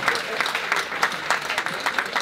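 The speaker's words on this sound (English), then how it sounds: "Give her a round of applause, please." Audience applause at a charity auction for cancer, a steady wash of many hands clapping at moderate volume with a few louder claps standing out, continuous throughout and no voices.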